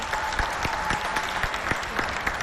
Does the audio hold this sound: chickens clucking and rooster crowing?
no